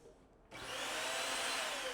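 A cheap handheld vacuum cleaner switches on after a brief quiet moment. Its motor rises quickly to a loud, steady, high-pitched whine and holds there without any speech.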